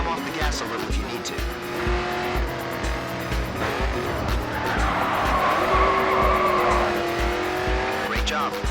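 A race car roars down a track in the racing video game GRID 2, its engine whining steadily with tires squealing through corners, loud and continuous while a voice speaks over it.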